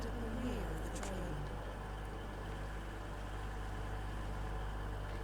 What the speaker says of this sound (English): Sounds like the engine's hunting a little bit